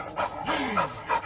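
A dog pants in quick breathy bursts, close and fairly loud, with a faint whimpering tone in between and no speech.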